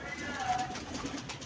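Pigeons coo softly and briefly from close by in a pigeon-keeping setting, a faint low murmur with light background noise.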